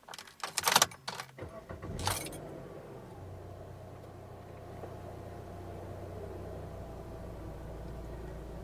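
A car is started with the key: keys jangle loudly for about two seconds, then a brief crank, after which a low steady engine idle hums through the rest.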